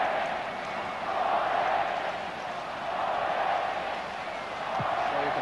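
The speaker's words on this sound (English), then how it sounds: "So you can hear it now, the Finnish crowd, and it's grown a little bit in the last 20 minutes or so." A large football crowd in a stadium at a Finland versus England World Cup qualifier gives off a steady, distant roar that swells and eases slightly throughout.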